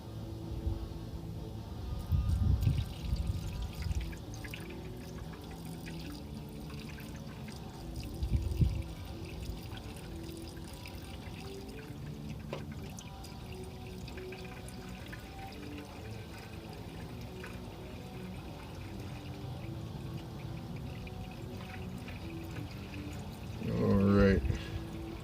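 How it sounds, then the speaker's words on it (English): Coolant glugs and pours steadily from a one-gallon jug into a car radiator, a continuous liquid stream heard up close, with a person talking now and then over it. "So let's pour this into the radiator now."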